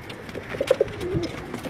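High-flying pigeons coo at a loft in Karachi, a few soft, short, throaty coos close by over a quiet background.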